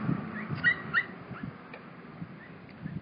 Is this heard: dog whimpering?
yes